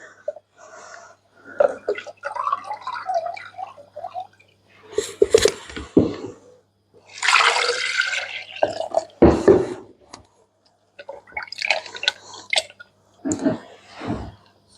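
Homemade butter is rinsed by hand in water, giving wet squishing, sloshing and dripping sounds in irregular bursts at close range, with short pauses between them.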